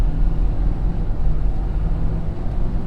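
A 2020 Ford Powerstroke Super Duty diesel pickup towing 14,500 lbs accelerates on the highway, giving a steady, loud low rumble of engine and road noise with wind buffeting and no talk.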